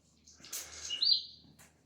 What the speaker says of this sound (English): There's 2 birds having a mad 5 minutes going around here at the moment.